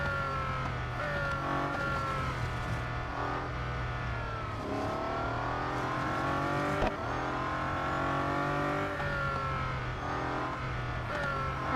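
A Bugatti Centodieci's engine in the racing game Real Racing 3 holds a loud, continuous high-revving tone, pitch rising and falling with gear changes across the lap, with no talking over it.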